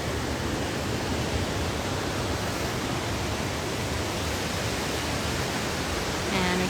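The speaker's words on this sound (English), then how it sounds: "we're right along the river" River in Takayama, Japan rushing steadily in a broad, constant roar of flowing water, loud and unbroken throughout.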